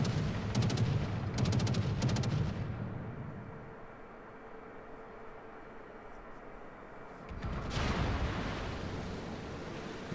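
A Japanese tier-7 destroyer, Yudachi, fires its guns in World of Warships: rapid booming salvos up front, a lull of low rumble, then another heavy volley returning.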